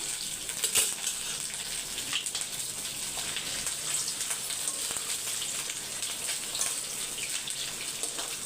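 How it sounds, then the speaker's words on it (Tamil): Appalam (papad) frying in hot oil on low heat gives a soft, steady crackling hiss with scattered tiny pops, close but quiet, and no voices. "இந்த சைடு எண்ணெய் நல்லா ஹீட் ஆகிடுச்சு கொஞ்சம் சிம்மில் வச்சுட்டு அப்பளத்தை பொரிச்சுக்கலாம்"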